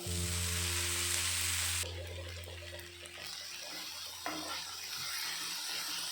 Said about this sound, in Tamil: அப்புறம் இஞ்சி போட்டுக்கோங்க, வதக்குங்க.